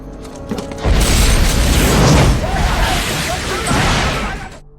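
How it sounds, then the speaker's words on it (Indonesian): A bomb blast in a gangster revenge action movie, a loud, sustained roaring explosion that rumbles on for several seconds before cutting off. "bersembunyi yang lalu meledakkan bom yang tadi dia siapkan"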